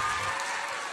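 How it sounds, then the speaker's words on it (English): Brief applause from an audience at a teen press conference honoring the young readers, a short burst of many hands clapping with faint crowd murmur and no speech. "Can we give another round of applause for"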